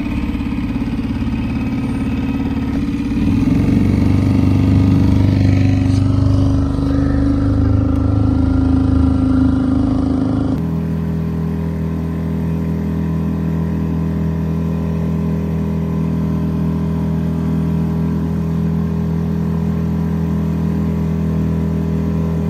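A boat's outboard motor runs steadily on the water in the Canadian forest, a loud continuous drone that shifts pitch partway through and then settles into a lower, even hum.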